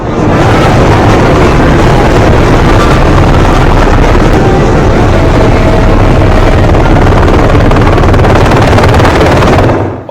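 A helicopter flies during a Bihar election campaign, its loud, close rotor and engine roar sustained without a break, with heavy wind buffeting the microphone.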